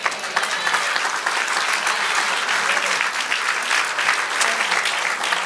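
Church congregation applauding, a steady dense wash of many hands clapping for several seconds, fairly close, with no voices standing out.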